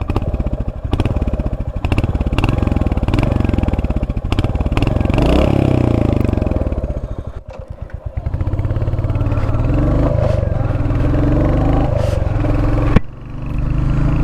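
A Royal Enfield Hunter 350 motorcycle's engine thumps loud and close while riding, a steady rapid pulsing beat with gear changes and revs dipping and rising, plus a clatter near the end.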